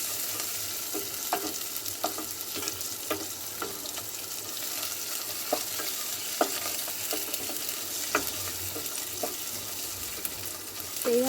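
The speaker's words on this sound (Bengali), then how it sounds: "প্রথমে চর্বিগুলো তেলের মধ্যে দিয়ে গলিয়ে নেবেন" Pieces of beef fat from Qurbani meat sizzle and melt in hot oil in a pan. A steady frying hiss runs throughout, broken by sharp scrapes and taps from stirring.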